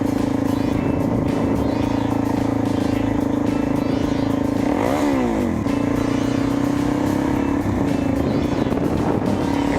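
A supermoto motorcycle engine drones loud and close, rising briefly in pitch as it revs through a wheelie, then settling back into a steady roar, with faint talk underneath.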